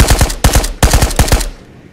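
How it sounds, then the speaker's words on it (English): Rapid bursts of automatic gunfire from a VR shooter game, Ghosts of Tabor, fired close and loud in three or four quick volleys that fade into a short reverberant tail. "Yeah, Peanut shot one."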